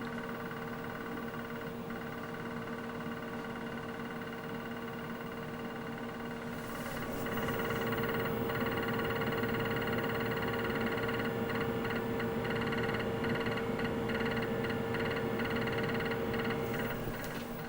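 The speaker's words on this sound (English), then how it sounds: "this is about to format 10 megabyte cartridge in drive 0" A Tandy disk cartridge drive for a TRS-80 formats a 10 megabyte cartridge in drive 0, producing a steady mechanical whir and hum that rises slightly in level partway through and runs on continuously, without speech.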